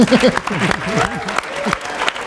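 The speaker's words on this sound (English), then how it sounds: "And let's again give another round of applause for Ri-Karlo Handy and Adam Fowler, please." An audience at a film and TV industry town hall claps in a brief burst, with a speaking voice over it.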